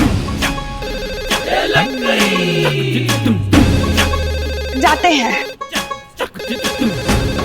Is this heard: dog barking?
no